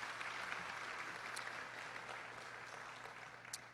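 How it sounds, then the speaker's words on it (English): Audience at a business breakfast applauding, a dense, even patter of many hands clapping that holds steady throughout at moderate level. "Can we please give them a nice round of applause?"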